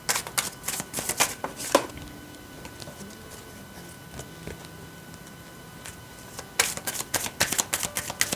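Tarot cards shuffled close by, giving rapid crisp riffling bursts at the start and again near the end, with a quieter stretch of soft handling between, and no speech.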